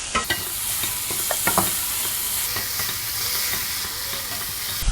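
Ginger garlic paste sizzles steadily in a hot pan while a utensil stirs and scrapes, with a few sharp clinks against the metal.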